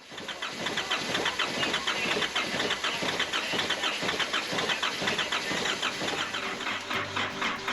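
Motor turning over and catching after fuel is primed into its injectors, a rough mid-pitched engine settling into steady running, close and fairly loud.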